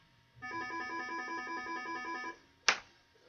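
An incoming call makes a phone ring with a steady pulsing electronic tone for about two seconds, then stops, followed by a single sharp click or tap.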